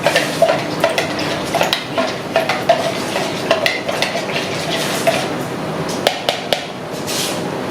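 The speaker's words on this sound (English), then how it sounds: "While I'm stirring this in" A spoon stirs a mixture in a bowl while baking jam drop biscuits and banana, walnut and pecan muffins, with a steady run of close, loud scrapes and clinks against the bowl.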